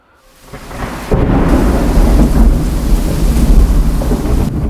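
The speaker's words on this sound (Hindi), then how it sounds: "बिजली कड़कने के साथ मूसलाधार बारिश हो रही थी।" Thunder rolls in low and builds, then a heavy downpour of torrential rain breaks in with a sudden surge, a loud, dense roar of rumbling and hiss that continues unbroken, a horror-story storm effect.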